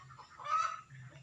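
Quail chicks in a brooder give a short burst of high, peeping chirps that swells and fades over about a second, set against a steady low hum.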